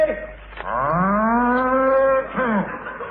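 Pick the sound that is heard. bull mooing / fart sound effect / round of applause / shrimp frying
bull mooing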